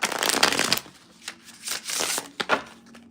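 Tarot cards being shuffled by hand: a close series of papery riffling and snapping bursts, dense at first and then coming in shorter separate flurries, with no voices.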